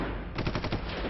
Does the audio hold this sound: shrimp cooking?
no